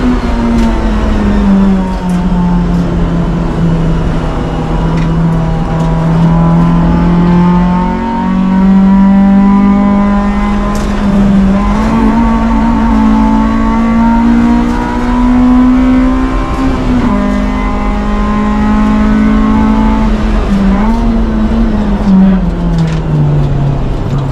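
A 1988 Honda CRX Si with a B16A engine roars steadily at high revs for the whole stretch on the Arroyo Seco race track, loud and close, pitch rising and dipping slightly as the car holds full throttle.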